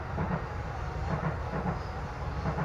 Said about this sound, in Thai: อันนี้รถรถไฟยามเย็นนะครับ